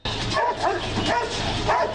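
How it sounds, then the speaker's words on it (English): Military sniffer dogs during a counter-terror hostage-rescue exercise at a theatre building, several barks and yelps in quick succession, fairly close and loud over a constant noisy background. "they brought along 2 sniffer dogs"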